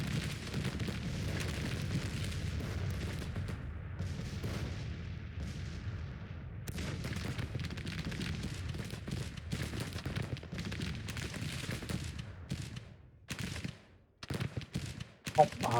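Cannon and artillery fire in a Civil War strategy game set in 1861–1865, heavy booming volleys rolling continuously under battle din, with a few sharper cracks near the end.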